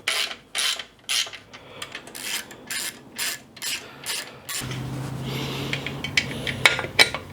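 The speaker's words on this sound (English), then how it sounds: "I'm stressing with these little flathead screws, just trying not to slip and scratch anything" A screwdriver turns small flathead screws on a bicycle reflector during restoration of a 100-year-old bicycle. It makes about nine rhythmic, close ratcheting clicks and scrapes, then a steadier mechanical rattle with a low hum.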